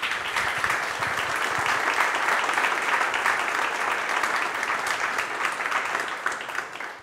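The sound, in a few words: audience applause for guests and speakers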